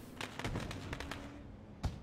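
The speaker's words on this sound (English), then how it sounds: "fireworks are going off over here at Five Flag Speedway" Fireworks burst over Five Flags Speedway during a Super Late Models racing event, a quick run of sharp cracks and pops in the first second, a lull, then one louder bang near the end, heard at a distance and fairly faint.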